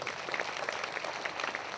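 A congregation at a prayer meeting gives a brief, faint burst of applause that sounds distant and dense, with no voices over it.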